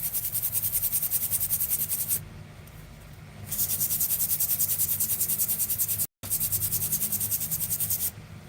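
Sandpaper pressed against a leopard wood pen blank spinning on a lathe, a steady close rasping hiss that drops away briefly and then resumes, with a short cut near the end.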